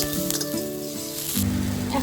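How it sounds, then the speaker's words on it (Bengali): Chopped curry leaves sizzle and spit as they fry in hot oil with onions, a steady close crackle that swells louder partway through, with no talking. "এখন এতে আমি কারি পাতাগুলো দিয়ে দিচ্ছি, কুচি করে রেখেছি। কারি পাতাগুলোকে একটু ভেজে নেব।"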